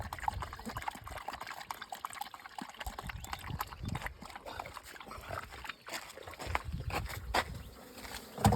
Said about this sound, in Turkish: Yazında sinek işte.